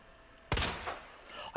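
Claire's pistol firing in the Resident Evil 2 Remake video game, a sharp burst of a few quick shots at moderate level after half a second of quiet, then a softer trailing report.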